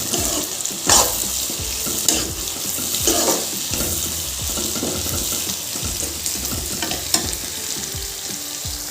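Cabbage and mixed vegetables for veg chowmein are stir-fried in a hot pan, giving a loud, steady sizzle broken by repeated scraping and tossing strokes of a spatula.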